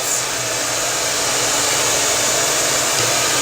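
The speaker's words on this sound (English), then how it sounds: "So I kind of just blow dry this way a little bit." Hair dryer blowing close and loud in a steady unbroken whoosh while wet hair is brushed through with a wet brush, no talk.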